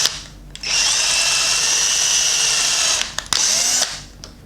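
A power drill runs in two sustained whirring bursts, close and loud, driving a screw to fix a board in place while building a motorless automatic sanitizer dispenser, with a brief pause and clicks between the runs.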